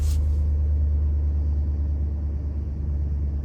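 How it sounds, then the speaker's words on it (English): A Dodge car engine, started during key fob programming, settles into a loud, steady low idle rumble that runs unbroken through the whole stretch. "it will tell you again to press the brake and start the vehicle"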